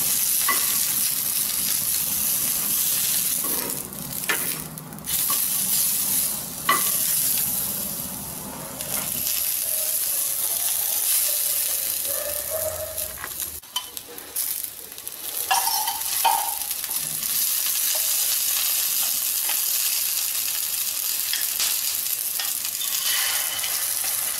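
Egg-stuffed bell pepper rings fry in a little oil in a pan, giving a steady bright sizzle with occasional stirring and scraping clatter, close and continuous without speech.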